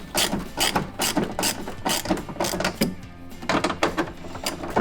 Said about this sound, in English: you're going to want to begin tightening it.